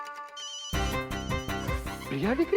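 A phone ringtone melody plays clearly in a domestic comedy scene, a steady tonal tune that fills most of the clip, with a voice speaking briefly over it near the end.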